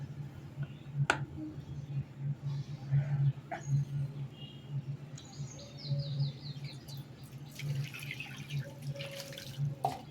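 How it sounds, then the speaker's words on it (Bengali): Tap water splashes and drips as a spot on the floor is rinsed before puja utensils are set down upside down. The washing comes in intermittent bursts over a low steady hum, with faint birdsong in the background. "যেখানটা ঠাকুর বাসন উপুর দেবো সেখানটা ধুয়ে নিলাম"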